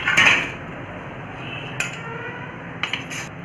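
Brass pooja items handled and set apart during cleaning, producing a few sharp metallic clinks and knocks spaced out over a quiet background, the first one loudest.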